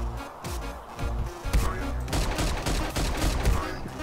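Gunfire in the video game Milkman Karlson, loud bursts of shots in rapid succession with dense, crashing impacts throughout.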